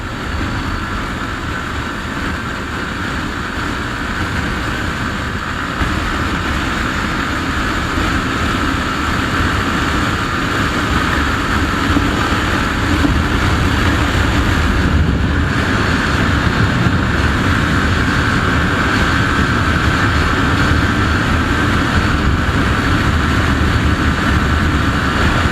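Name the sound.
Hero Glamour X125 motorcycle riding at top speed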